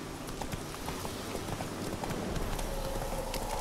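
A horse's hooves clip-clop in The Witcher 3 on PS4, a quick, continuous run of hoofbeats over soft ambient noise, fairly quiet and without talk.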